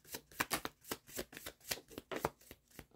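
Tarot cards being shuffled and drawn from the deck, a quick run of crisp papery riffles and snaps repeating close and fairly quiet, with no talking.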